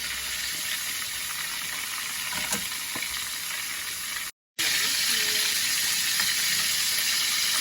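Steady, loud sizzling of chicken frying in hot oil, with occasional crackles and a brief dropout partway through.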